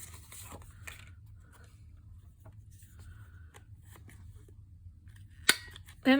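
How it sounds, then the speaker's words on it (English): Scissors snip the corners off paper for a handmade banner, a single sharp close cut standing out near the end amid quiet rustling. "you can just snip their corners with the scissors as big as you want them"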